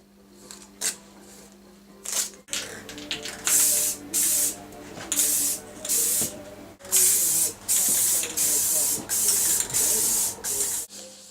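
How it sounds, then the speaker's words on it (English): Lacquer is sprayed onto a repaired guitar neck in a series of short hissing bursts, roughly a dozen, each lasting under a second with brief gaps, close and fairly loud with no talking. "Just need to mask it up now and then I'll spray the lacquer onto it."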